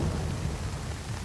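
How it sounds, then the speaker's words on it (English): Rain with rumbling thunder in the survival video game Nightingale, a continuous low heavy roar under dense steady rainfall, no voices. "Wait for the rain to stop"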